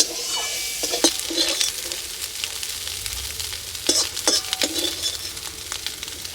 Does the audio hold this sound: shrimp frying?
yes